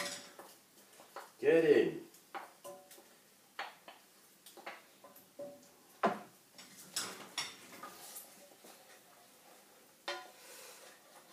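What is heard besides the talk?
carbonara egg mixture stirred into pasta in pan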